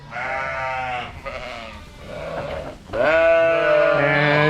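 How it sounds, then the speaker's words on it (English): Lambs on a farm bleat loudly and close by at weaning time, producing several overlapping, wavering calls that run almost without pause, with a louder cry rising near the end. "It's time to wean some lambs."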